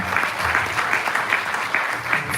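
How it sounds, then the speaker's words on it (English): Steady, dense applause from a town hall audience in a hotel conference room, clapping for the president; a continuous close wash of many hands with no talking over it. "I'll clap for Madam President again."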